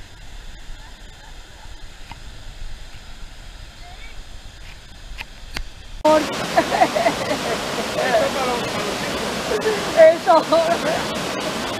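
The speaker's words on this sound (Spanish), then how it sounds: "Esta cascada." A waterfall on the Bohigues river near Rincón de Ademuz rushes in a steady broadband roar, growing louder and closer partway through, with a few brief voices over it.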